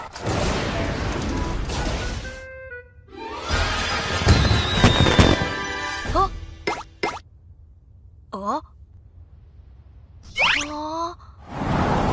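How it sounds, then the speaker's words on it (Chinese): A loud, crackling blast bursts out midway in an AOTU World animated episode, surrounded by quick cartoon-like sound effects and voices talking. "这次怎么还爆炸了喂"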